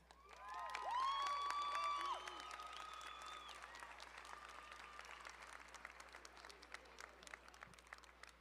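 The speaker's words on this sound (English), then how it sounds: "Graduates, give them a round of applause." An audience at a 2019 adult basic HSE graduation ceremony breaks into sustained applause for the graduates, with a few whoops and whistles early on, then steady clapping that gradually thins.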